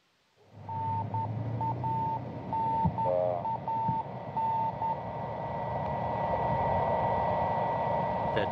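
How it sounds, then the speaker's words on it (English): Radio beacon from a Soyuz TMA-12M spacecraft returning to Earth, a repeating steady electronic tone in short evenly spaced beeps over a continuous hiss and hum of radio static. "That beeping sound that you hear is a radio beacon that is coming from the Soyuz spacecraft"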